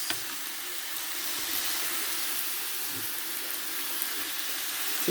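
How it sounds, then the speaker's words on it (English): Bean sprouts in a hot pan for fried noodles with king prawns, giving a steady, even sizzle and hiss that holds close and fairly loud for several seconds, with no voices. "Gonna put my bean sprouts."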